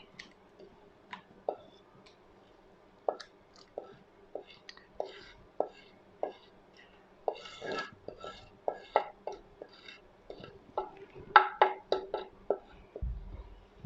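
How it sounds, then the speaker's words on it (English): Prepared ingredients for palm nut soup being tipped and scraped into a bowl, sparse clicks and taps early, then a denser run of clinks and knocks from utensils against the bowl, close and quiet. "Then I'm going to put all of this in this bowl."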